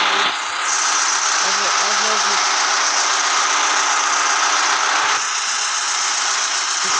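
A bus engine idles in the snowy-weather driving game Motor Depot, a steady mid-range rumble with a faint mechanical knock, loud and continuous, while someone speaks over it.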